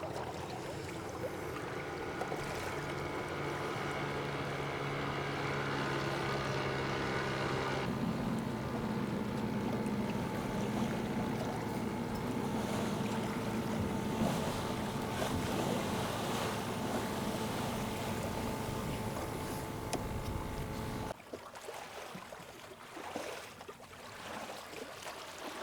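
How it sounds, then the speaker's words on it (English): A sailboat's auxiliary engine drones steadily on open water as the boat motors through a narrow passage, a constant low hum with wind noise that cuts off abruptly near the end. "we just had to put the engine back on for a second because we really lost the wind in this narrow part now"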